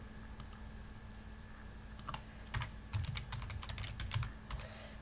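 Rapid clattering keystrokes on a computer keyboard while typing PHP code, quiet at first, then denser bursts of clicks over a steady low hum, close and fairly soft.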